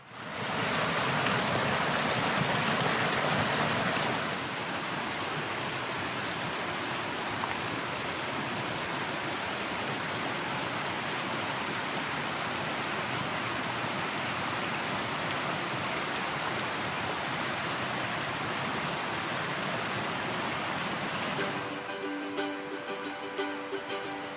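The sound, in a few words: Trout Creek flowing beside a campsite in Montana forest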